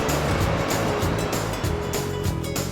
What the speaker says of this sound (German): Hier beobachteten wir einige Surfer, die immer wieder versuchten, die Wellen des Atlantiks zu bezwingen.